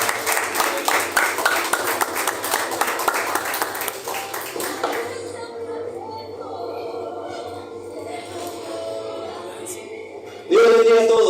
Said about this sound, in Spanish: Lo recibimos con un aplauso en el Señor.